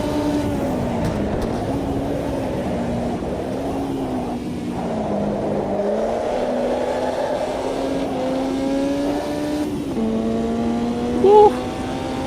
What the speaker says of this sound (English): the sounds in the Formula 1 cars, and they're quite accurate.